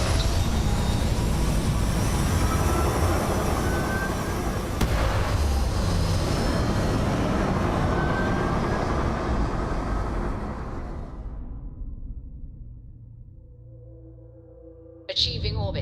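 A spaceship taking off in Starfield, a loud, broad engine roar that holds steady, then fades and thins toward orbit, ending with a sharp electronic tone.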